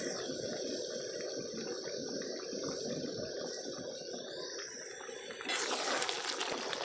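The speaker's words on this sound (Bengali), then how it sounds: "এবার এই গ্রেভিটা কিছুক্ষণ ফুটে যাবে" Jackfruit and shrimp chili gravy simmers in a cooking pot with a steady, close bubbling hiss that swells slightly louder near the end, with no talking.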